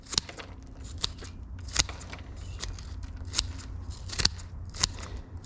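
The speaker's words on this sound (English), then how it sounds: "I'm using a larger red scissors that I only use for roots." Larger red scissors trimming the roots of a young Japanese Black Pine during potting, giving a series of sharp, close snips and crisp clicks spaced irregularly over faint background hiss.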